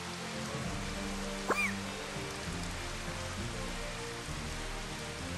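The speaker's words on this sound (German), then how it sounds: "Es regnet, die Erde wird nass." Steady, moderate rain falls across the ground in the video game Final Fantasy XV, a continuous soft hiss with no talking and one brief chirp-like tone partway through.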